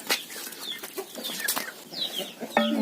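Backyard hens and chicks cluck and peep nearby while being fed, giving short, irregular calls with soft scratching and pecking noises between them.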